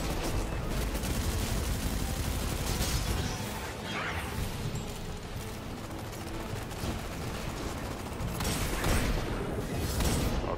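Void hand cannon gunfire in the video game Destiny 2 Lightfall, heard as a dense, continuous wall of shots and impacts that stays loud through the whole stretch with no gaps.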